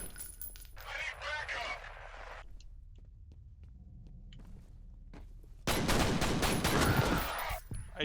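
Pistol gunfire in the video game F.E.A.R.: after a quieter stretch with hum and some voice-like sound, a loud close burst of shots erupts and continues for a couple of seconds.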